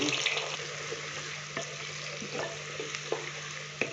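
Finely chopped onions sizzle in hot oil in a pan for an aloo matar shalgham curry, a steady soft frying hiss with occasional stirring clicks, fairly quiet, no talk.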